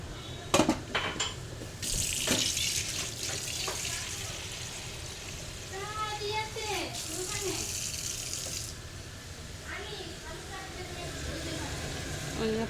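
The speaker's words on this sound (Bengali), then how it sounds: "এখন পানি অ্যাড করে দিব।" Water is poured into a pan of dried fish curry with potato, eggplant and jackfruit seeds, a splashing, running pour with clinks of pots and utensils while someone talks over it.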